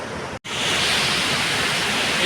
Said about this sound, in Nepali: बढेछ खोला चाहिँ